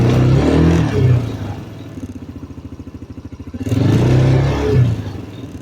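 Coleman TaoTao Raptor 200cc ATV engine revs up loudly, drops to a rapid pulsing idle-like chug, then revs again, heard close and alone.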